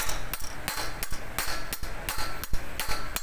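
A hammer strikes a Mitsubishi Montero Sport crankshaft bolt in a workshop, about eight sharp metallic blows at a steady, slightly uneven rhythm, close and loud with no talking in between.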